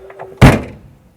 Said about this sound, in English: That's a heavy door.